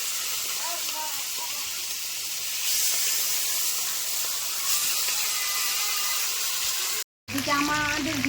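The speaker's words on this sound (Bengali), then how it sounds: "বিরিয়ানির জন্য মাংসগুলো ভেজে নেব।" Meat frying in hot oil for biryani gives a steady, loud broadband sizzle and hiss that runs almost unbroken, dropping out briefly before a short spoken phrase.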